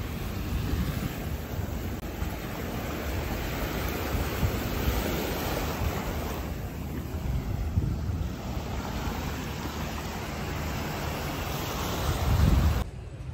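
Waves on the beach at Pattaya, Thailand, a steady broad wash of surf with wind buffeting the microphone, constant and fairly loud from start to end, with no voices.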